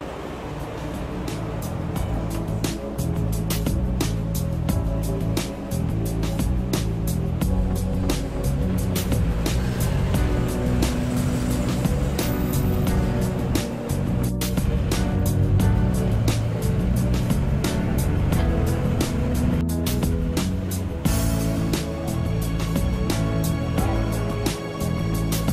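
Steady engine drone and road rumble inside a moving bus in Yogyakarta, Indonesia, continuous and fairly loud throughout with rattles and bumps, no clear talk.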